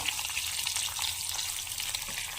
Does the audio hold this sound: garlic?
yes